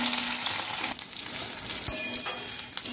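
Small sliced rounds of taro hit hot oil and fry with a loud, dense crackling sizzle, close by and continuous, broken by a couple of brief stirring scrapes.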